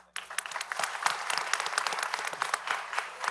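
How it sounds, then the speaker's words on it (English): A round of applause at a city council meeting in Mobile, with many hands clapping in a close, crisp burst that starts abruptly and holds steady with scattered individual claps standing out. "Give these guys a round of applause."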